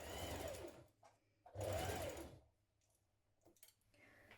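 A sewing machine stitches the gathered bodice of a child's dress in two close bursts of about a second each, followed by quiet handling sounds and small clicks.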